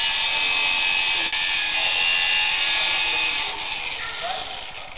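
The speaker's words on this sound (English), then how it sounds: "The angle grinder." Angle grinder run by police cutting through arm guards at a protest, a steady loud high whine that holds for several seconds and drops away near the end.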